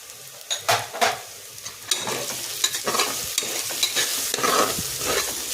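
A spoon stirs and scrapes masala khichdi mixed with red Kashmiri chili powder, garam masala and salt in a pan, giving close, irregular strokes and clinks with a faint sizzle underneath.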